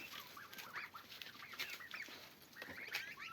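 A rooster and hens settling onto their evening roost in a farmyard give repeated soft clucks and short calls, close by and continuous, with no talk.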